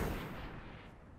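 A single heavy burst of gunfire from the video game Destiny 2 booms and then rolls away into a decaying echo over about a second.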